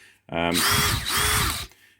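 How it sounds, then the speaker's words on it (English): A DeWalt DCD 778 brushless combi drill whirs up loudly and runs in two sustained bursts close by, its high motor whine briefly dipping between them before it winds down. "This is a DeWalt DCD 778 brushless combi drill, so like a basic combi drill."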